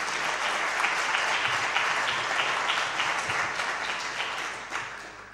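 An audience at a literary tribute to Roberto Bolaño applauds to welcome a trio of speakers, dense continuous clapping filling the room and slowly tapering off toward the end.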